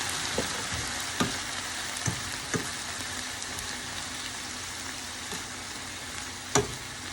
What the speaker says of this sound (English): Add the broth. I use vegetable broth.